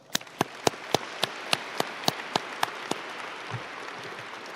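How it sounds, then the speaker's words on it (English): Audience applause at a military air mobility wing change of command ceremony: about a dozen sharp, evenly spaced claps ring out in a loud, reverberant space, fading into quiet room tone toward the end. "Let's give them a round of applause."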